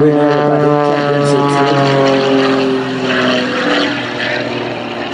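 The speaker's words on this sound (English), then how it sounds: "For a while, there's nothing like this airplane." A Pitts Special aerobatic biplane passes overhead at an air show, its propeller engine producing a loud, steady buzzing drone that slowly fades as it moves away.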